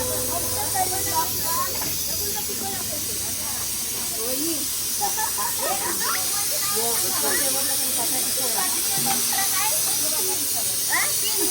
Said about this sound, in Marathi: हो बघा इकडे कुकर आहे.